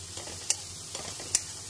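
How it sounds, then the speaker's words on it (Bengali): Boiled yardlong beans frying in a hot pan, giving a steady soft sizzle with a few sharp scrapes of a spatula, close and moderately quiet, with no voices. "বরবটিগুলো সেদ্ধ হয়ে গেছে, এখন ভাজা ভাজা করবো।"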